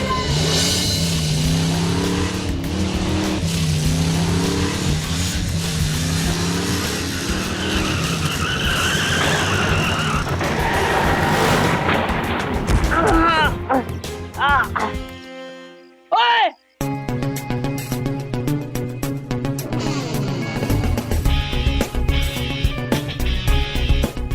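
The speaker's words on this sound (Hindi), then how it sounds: "हाँ, स्कूटर ठोक दिया" A scooter crash in a comedy sketch: a loud skid and tire squeal, then a sudden impact and brief silence before clattering noise resumes, with music and voices around it.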